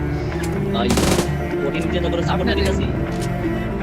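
Gunfire in a PUBG battle royale match, with a burst of rapid shots standing out amid dense game sound and someone talking over it throughout.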